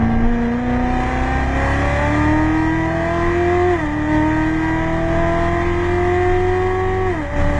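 A car accelerates hard at full throttle on a track, its engine loud and close inside the cabin, the pitch climbing steadily through a gear, dropping at a shift, then climbing again.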